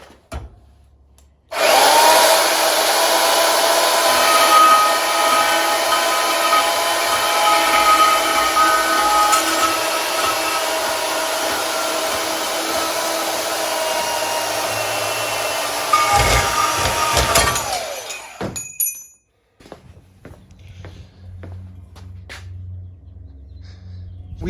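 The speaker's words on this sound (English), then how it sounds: "the easiest way to cut steel is using a bandsaw" Bandsaw cutting steel for a Jeep JL rear bumper, a loud continuous grinding whine that runs steady for about fifteen seconds and then stops, followed by scattered clanks and handling noises.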